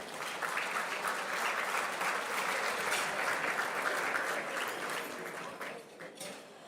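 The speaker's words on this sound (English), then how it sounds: "Let's give him a round of applause" An audience at a national leadership luncheon applauds Arturo Vargas, a sustained wash of clapping from many hands in a large room that holds steady for several seconds before tapering off.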